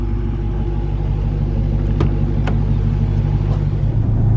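A Dodge Hellcat with about 700 horsepower, running on stock Pirelli P0 all-season tires, drives along with a steady low engine rumble filling the cabin, continuous and fairly loud throughout.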